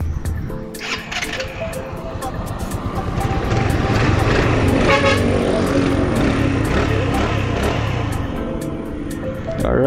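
A Yamaha NMAX scooter fitted with its stock exhaust pipe idles and revs nearby, a continuous rough engine drone that swells louder midway and holds steady.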